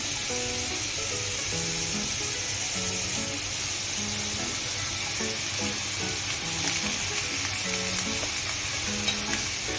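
Radish greens hit a hot tempering in a pan, giving a loud, steady sizzle and frying hiss throughout, with no talking and a faint repeating tonal pattern underneath.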